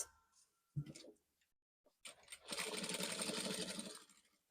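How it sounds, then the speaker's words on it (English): A sewing machine stitches a jumpsuit collar with a half-inch seam allowance: a few short clicks and one brief burst, then a sustained run of fast, rattling stitching that fades away at the end. "I'm sewing with 1/2 inch."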